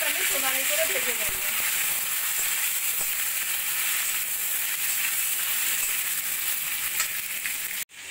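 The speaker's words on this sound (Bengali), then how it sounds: "নুন আর হলুদ দিয়ে পটলগুলোকে আমি সোনালি করে ভেজে নেব।" Pieces of pointed gourd (parwal) fry in hot oil with salt and turmeric, a steady close hissing sizzle lasting throughout, with a faint clink early on and a brief knock at the very end.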